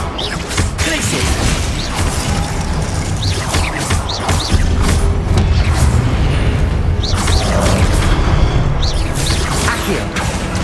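Glacius ice spell cast in the Hogwarts Legacy game, a dense burst of crackling, whooshing magic impacts over a busy, loud game soundscape with steady rumble throughout.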